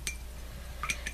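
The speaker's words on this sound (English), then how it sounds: "I'm just going to rinse my brush" A paintbrush is rinsed in a water jar while acrylic painting, giving two quick, close clinks of the brush against glass amid light watery swishing.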